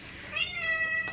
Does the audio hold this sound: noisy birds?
no